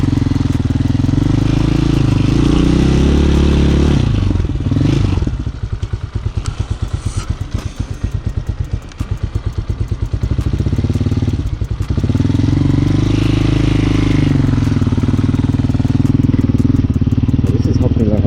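A Honda Hawk 250cc dual sport motorcycle ridden through the city, its engine droning loud and steady, dropping to a throbbing, pulsing idle-like chug in the middle before revving back up, with wind buffeting throughout and a voice talking over it.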